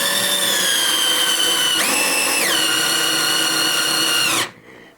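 A power drill driving deck screws while a ceiling light is installed, a loud close whining motor that rises in pitch partway through, then drops and winds down at the end.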